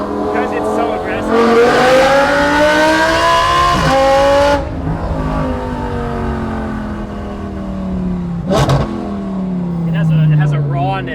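An Audi R8 fitted with equal-length headers revs hard, its engine climbing in loud rising sweeps, dropping off, then surging again in a second, shorter rev; the car is close and dominant, with occasional voices beneath.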